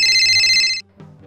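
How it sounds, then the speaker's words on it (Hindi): A loud electronic phone ringtone chimes for under a second, then cuts off, followed by a brief faint clunk. "अरे फोन आ गया, मैं बात करके आता हूँ।"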